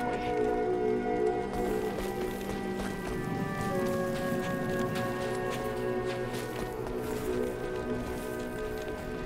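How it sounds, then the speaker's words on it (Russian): Rain falling in a desert area of the video game Diablo 2 Resurrected, a steady soft wash of rainfall under sustained tonal game music, with faint footstep-like taps. "Добро пожаловать в дождь в пустыне."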